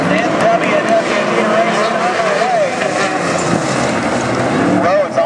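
Non-wing sprint cars race at Sunset Speedway, their engines roaring loud and close with pitch rising and falling as they pass through the turns, under a continuous announcer's commentary.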